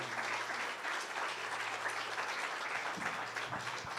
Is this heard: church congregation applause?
yes